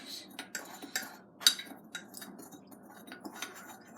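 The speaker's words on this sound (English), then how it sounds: "You can use a tablespoon. Just mix it in." Tablespoon mixing baking powder and cocoa powder in a mug, soft scattered clinks and scrapes of metal against ceramic, fairly faint and close, with quiet murmuring voice in places.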